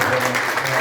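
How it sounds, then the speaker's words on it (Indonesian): A press-conference audience for the film Satu Hari dengan Ibu breaks into a brief, dense burst of clapping, loud and continuous, with a voice overlapping. "Kita berikan tepuk tangan"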